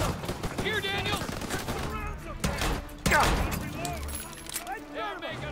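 Rapid gunfire and bursts of automatic weapons in a Call of Duty WWII campaign battle, loud and continuous under shouted voices, with a heavier blast near the middle.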